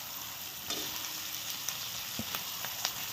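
Potatoes and onions fry together in a pan with a steady, quiet sizzle, broken by a few soft stirring scrapes and clinks.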